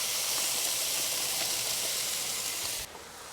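Finely diced onions, peppers and Italian sausage sizzle steadily in a hot pan, a close, even hiss that holds at constant loudness before dropping off sharply near the end.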